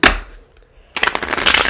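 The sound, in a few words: shuffling tarot cards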